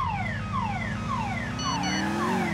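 A car alarm in the video game GTA IV, near and loud, cycling through repeated falling siren sweeps over a steady pulsing tone with no talk.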